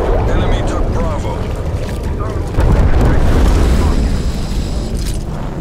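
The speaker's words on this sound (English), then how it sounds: "Artillery targeting detected." Artillery strike explosions in Call of Duty Black Ops Cold War: a dense, loud, close barrage of overlapping booms and rumbling blasts that swells midway and keeps going throughout.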